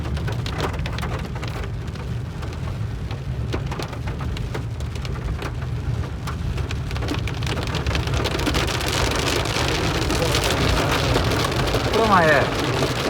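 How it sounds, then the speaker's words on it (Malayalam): Steady rain pours down during a trip in Valparai, a dense, constant hiss of drops on surfaces that swells slightly toward the end, with faint rumbles underneath. "മഴ"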